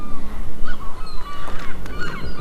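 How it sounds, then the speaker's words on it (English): Loud, near gull calls, repeated squawking cries overlapping each other in a busy, noisy cluster. "These seagulls are a bit loud today, aren't they?"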